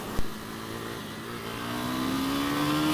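A KTM Duke 390 motorcycle engine hums steadily and then climbs in pitch as it revs, with a brief thump near the start, heard up close from the rider's position.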